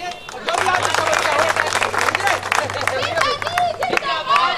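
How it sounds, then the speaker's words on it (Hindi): During a street play in a Sector-6 market parking lot in Dwarka, a crowd claps and applauds. Voices and chatter are heard throughout, largely mixed with the clapping. "तालियां बजाइए"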